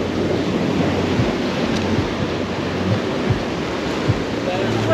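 Surf washing in steadily at Labadi Beach in Accra, Ghana, a broad continuous roar of breaking waves with wind noise across the microphone and a few louder surges, heard close and without talk.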